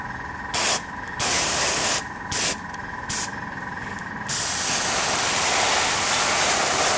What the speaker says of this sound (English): You basically want to paint the head and gently overspray the neck for the blending effect.